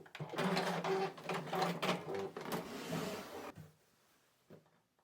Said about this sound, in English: Carefully sew around the entire edge of the heart shapes.